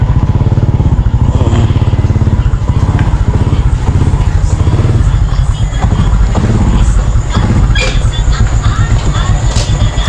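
A motorcycle engine drones steadily and loudly up close while riding, a continuous rumbling hum with road clatter throughout, and a voice speaks faintly beneath it.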